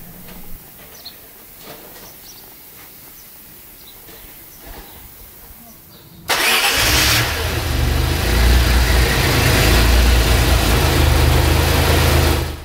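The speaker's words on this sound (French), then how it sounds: "il n'y a plus la sorte de bruit de succion bizarre au ralenti" A Maserati engine, just back from turbo repair, is cranked and starts suddenly partway through after quiet handling sounds, then settles into a loud, steady idle that continues to the end.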